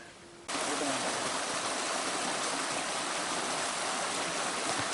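Mountain river near a highland village, a loud continuous rushing stream that begins abruptly after a quiet half second and then holds steady and close.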